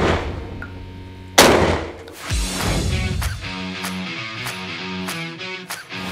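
A single sharp, loud 12-gauge shotgun blast cracks out as it hits a bottle of gasoline, followed by a rumbling echo and lingering ringing noise with a few faint knocks afterward.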